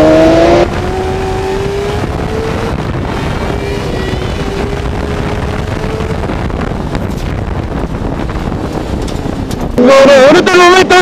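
A Planet Kart Cross Kamikaz 2 kart engine drones loud and close on a track, its pitch rising steadily under buffeting wind noise, while someone talks briefly at the start and again at the end.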